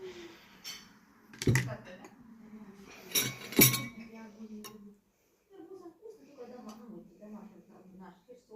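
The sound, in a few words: stirring heated borscht in a pot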